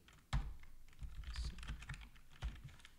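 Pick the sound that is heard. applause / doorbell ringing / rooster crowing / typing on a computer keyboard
typing on a computer keyboard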